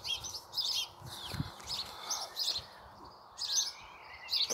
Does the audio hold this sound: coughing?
no